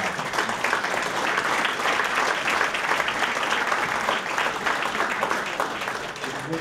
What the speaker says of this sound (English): we owe them a round of applause